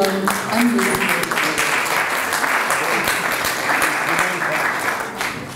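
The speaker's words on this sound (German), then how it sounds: "Ein Applaus für die Anwesenden." Steady, fairly loud applause from an audience at a panel discussion on learning and schools, a full continuous patter of many hands that fades slightly toward the end.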